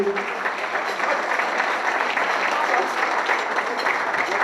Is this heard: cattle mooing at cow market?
no